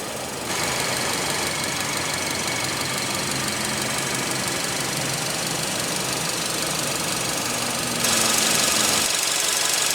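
A 2016 Hyundai Sonata's 2.4-liter inline four-cylinder engine idles steadily for several seconds, a constant low hum with faint mechanical ticking, getting a touch louder and rougher near the end.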